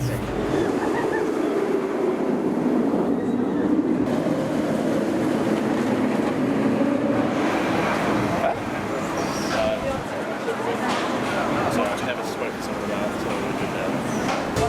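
A steady loud rumble of the Nemesis roller coaster train at Thorpe Park running on its track, with rattling clatter and wind noise throughout, voices talking over it.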